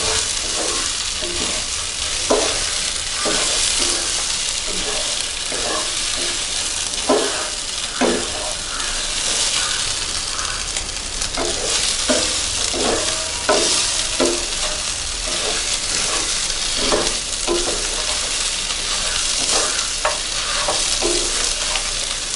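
Chicken pieces, grated coconut and dried red chillies frying for Kerala chicken roast, a constant loud sizzle with repeated scraping stirs of a spoon against the pan, close by and steady throughout.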